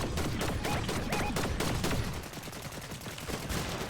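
Rapid automatic gunfire from a Fortnite battle royale match, a steady loud stream of shots that eases slightly in the second half, with no voices over it.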